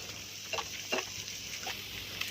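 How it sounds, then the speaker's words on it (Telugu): Onion, mint leaves and shahjeera frying in a little oil in a pan, giving a soft, steady sizzle with a few brief stirring scrapes, close and fairly quiet, with no talk. "ఇప్పుడు ఒక ప్యాన్ తీసుకొని అందులోకి కొద్దిగా ఆయిల్ యాడ్ చేసేసుకొని ఒక స్పూన్ ఆఫ్ షాజీరా అండ్ కట్ చేసి పెట్టుకున్న ఒక ఆనియన్ అండ్ కొద్దిగా పుదీనా యాడ్ చేసేసుకొని"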